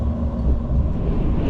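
A Seoul-bound Mugunghwa passenger train runs on the Gyeongbu Line, giving a steady, loud low rumble of wheels and car noise with no distinct beats and no voices.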